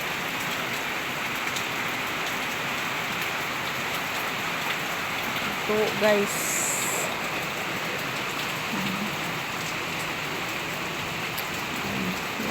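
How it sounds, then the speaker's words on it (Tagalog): Heavy rain pours down during a low-pressure storm, a dense, constant hiss of drops hitting surfaces that fills the whole stretch, with a brief spoken remark and a faint rumble partway through. "Sobrang lakas ng ulan talaga mga palangga."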